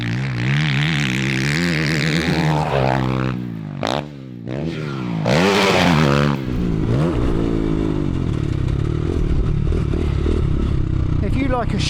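A Chinese dirt bike engine while riding, loud and close, its tone rising and falling with throttle changes and gear shifts, wind rushing across the microphone, and a rider talking over it at times.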